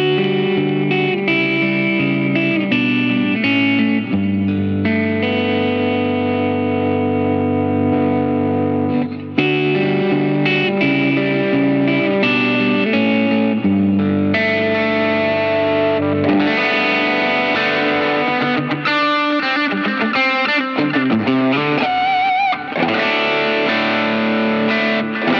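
An electric guitar plays through a low-gain amp setting on a Line 6 POD Go with a Strymon Deco emulation, giving a warm, slightly crunchy distorted tone. Chords and melodic lines sound steadily and loudly, with a chorus-like shimmer and no talk.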